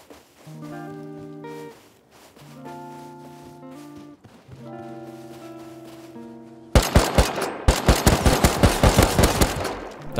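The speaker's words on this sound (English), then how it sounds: "that was some bad shooting by me" Automatic gunfire in the survival video game Rust bursts in after several seconds of tonal music, then continues as a loud, rapid string of sharp shots with brief pauses.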